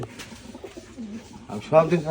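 Low, throaty cooing from a Giribaz pigeon close by, a few soft rolling coos building to a louder burst near the end, with a voice talking briefly.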